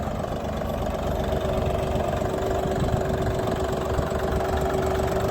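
A Dongfeng 244 tractor's diesel engine idles steadily nearby, a loud continuous low rumble with a faint knocking texture and a thin whine, without voices.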